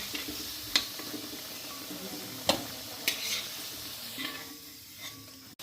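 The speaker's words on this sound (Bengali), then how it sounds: "পেঁয়াজটা কিন্তু ভাজা ভাজা হয়ে আসছে" Sliced onions sizzle in hot oil in a pan for a village-style duck curry, a steady low crackle with a few sharp clicks of a stirring spoon against the pan, close and moderately quiet with no voices.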